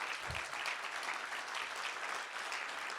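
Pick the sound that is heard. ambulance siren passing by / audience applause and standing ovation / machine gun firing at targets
audience applause and standing ovation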